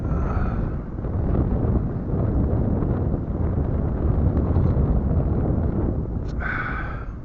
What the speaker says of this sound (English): when you're somewhere like this where there ain't no covering, no trees or nothing, man, you feel the impact of the wind